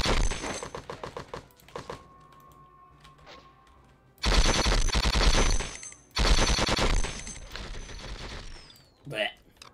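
Sniper gunfire in the Conflict: Desert Storm video game, with dense bursts of shots arriving in loud clusters separated by quieter gaps, mixed with other battle noise and a sharp final crack near the end.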